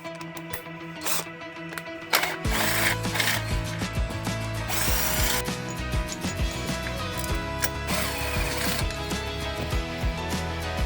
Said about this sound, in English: I'm going to crack on and get this these sump bolts out.